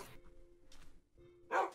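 Several dogs barking together, brief yips and barks that are fairly faint and distant, the loudest one closing out the short stretch.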